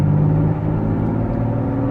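A car engine holds a steady, moderate throttle from inside the cabin, giving a continuous low rumble and drone at an even level, with no voices.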